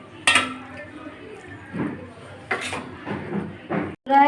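Cooked chickpea, garlic and pui greens curry being scooped from a pan into a bowl, with several sharp clinks and scrapes of a utensil against metal and crockery, close and intermittent, under quiet background room noise.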